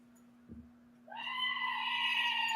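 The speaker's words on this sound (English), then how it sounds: "Was that a goat?" A goat gives one long, strained, nasal bleat that starts about halfway through and holds to the end, fairly loud against a steady electrical hum, with a brief soft thump before it.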